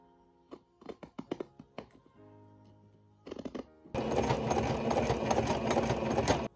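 A domestic sewing machine stitching a small fabric pocket in a home sewing workshop, first several clicks and knocks of handling, then a loud, steady, close mechanical whir of continuous stitching.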